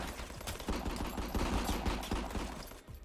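Gunfire rattles through a street fight in the video game RICO: rapid, overlapping shots and bursts in a dense, continuous volley at moderate loudness.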